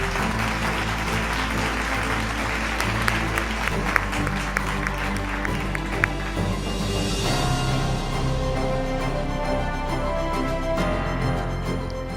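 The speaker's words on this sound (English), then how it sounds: "a very, very big and thunderous applause" Audience applause at an entrepreneurship awards ceremony, sustained clapping under loud background music with a steady low hum, lasting about twelve seconds.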